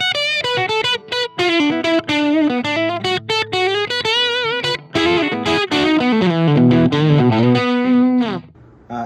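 Electric guitar through a Boss Blues Driver BD-2W overdrive pedal in standard mode, with level, tone and gain at noon, playing a bluesy lead line of bent, sustained notes and quick runs with mild crunchy distortion, loud and up close.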